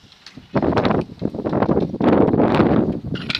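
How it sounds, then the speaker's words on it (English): Gusty wind buffets an outdoor spot where aluminium is being poured into ingots, arriving in loud, rough bursts close to the microphone with short lulls between them. "the wind is really picking up out here"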